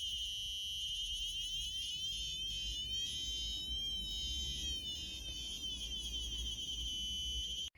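An Arduino buzzer temperature alarm sounds continuously, a loud, shrill, steady electronic tone with warbling overtones that lasts almost the whole time, with no talking.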